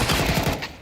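Rapid gunfire in Counter-Strike, a loud, dense run of shots packed together in under a second, fading slightly at the end.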